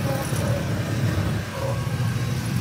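Road traffic rumbles past in a congested street, a steady low engine drone with vehicles moving by close at hand.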